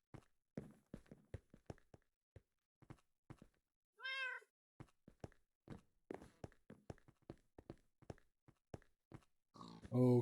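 A single clear cat meow sounds midway amid a string of soft footsteps and thunks in the video game Minecraft, with another meow-like cry at the very end.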